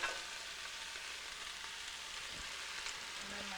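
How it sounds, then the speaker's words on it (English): Mushrooms fry in hot oil on a stovetop for a hobbit-style stew, a steady close sizzle with soft stirring, no voices. "I've got my oil on the stove. It's getting hot. I'm going to add in all my mushrooms here first."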